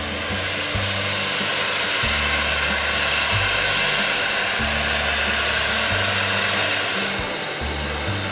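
Tweetsie Railroad locomotive number 12 gives off a loud, continuous hiss heard up close, with a low, uneven throbbing rumble beneath it throughout.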